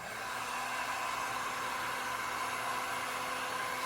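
Heat gun blowing on vinyl wrap on a Mitsubishi Ralliart, a constant soft airy hiss with a low hum, steady throughout at moderate distance.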